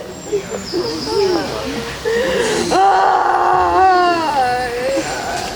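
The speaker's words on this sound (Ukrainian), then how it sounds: "Ця жінка, що кричить над труною так, що аж серце розривається" A grieving mother wails and screams over a coffin at a funeral for a missile strike victim in Kryvyi Rih, her voice rising into long sobbing cries, loud and close, amid a crowd.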